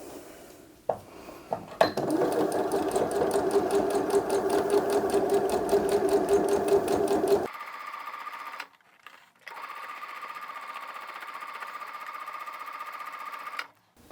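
A sewing machine stitches all the way around a small Easter bunny-ear fabric bag, a close, rapid rhythmic clatter running in long stretches with a short stop and restart.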